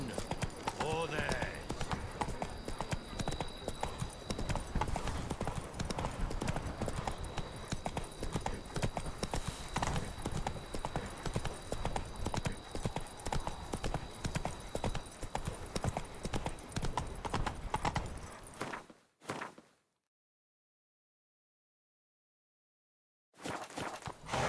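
Horse hooves clip-clop at a steady walking pace in The Witcher 3 video game, a continuous, close, rhythmic plodding that runs for about twenty seconds before cutting to silence, then briefly resuming.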